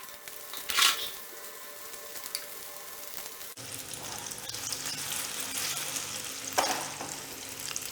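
A lauki and soya snack shallow frying in oil with curry leaves, a steady close sizzle that swells midway as more pieces go in, with occasional louder spatters.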